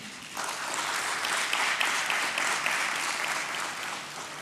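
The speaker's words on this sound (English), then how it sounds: "A nice round of applause, ladies and gentlemen." Steady applause from the audience fills a stock exchange listing ceremony, with dense, even clapping that starts after a brief pause and holds at moderate loudness to the end.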